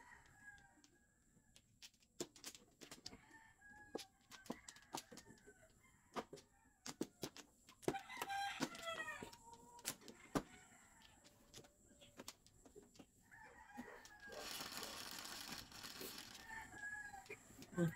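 Chickens cluck on and off while a rooster crows repeatedly nearby at a farmyard. Scattered sharp knocks and clatter mix in, and a broad hiss of noise rises near the end.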